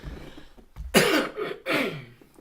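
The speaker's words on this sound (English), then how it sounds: "Let me clear my throat." A man clears his throat with two or three harsh, raspy rasps in quick succession, close to the microphone, with no talk around them.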